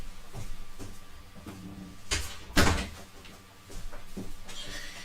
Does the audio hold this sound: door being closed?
yes